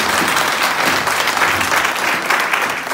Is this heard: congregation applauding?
yes